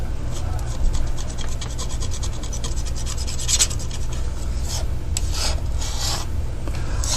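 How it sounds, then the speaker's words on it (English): A painting knife scrapes up thick white paint, a rough rasping scrape repeated in short strokes close by over a steady low hum, with brief sharper scratches toward the end. "Let's scrape up some of this"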